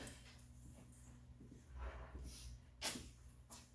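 A puppy in board-and-train lessons whimpers softly with snorts and breathy sniffs, close but faint, with several sharp brief noises.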